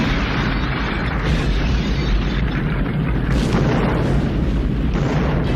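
A loud, sustained explosion from a movie shootout scene, a deep rumbling roar that fills the sound with no pause for its full length, heard alone without talk.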